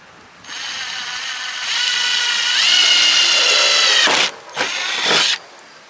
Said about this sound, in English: So this here is a 1/8 drill bit